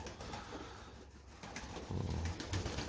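Soft, low racing pigeon coos repeat against a steady background rumble, with no speech.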